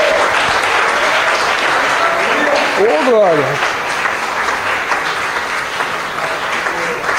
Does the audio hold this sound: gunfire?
no